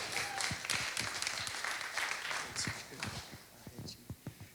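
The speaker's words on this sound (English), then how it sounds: "can we give a huge round of applause to your new student ministry director of ASM" Church audience applause welcoming a new student ministry director, dense at first with sharp, close claps and cheers, then thinning to a few scattered claps as it fades.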